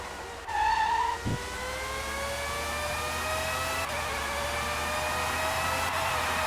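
A Formula 1 race car in the Formula 1 '97 video game climbs through the gears, its steady high engine whine rising in pitch after one short shift, loud and continuous with a faint tire squeal near the start.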